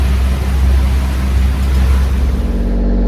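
Boat engine running steadily at about 1,500 RPM while cruising around 8 miles per hour, a loud, constant low drone with a smooth hum and water rush, no voices.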